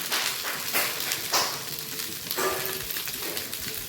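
Spices sizzling and being stirred in a frying pan, a steady close crackle with scraping stir strokes recurring every second or so, no voices.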